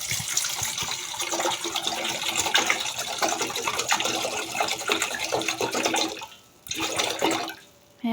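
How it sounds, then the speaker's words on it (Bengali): Water pours from a tap into a cooking pan (kadai) in a home kitchen, a continuous loud splashing stream that stops briefly near the end, then resumes for a moment. "হ্যাঁ, পানি দিয়ে দিলাম।"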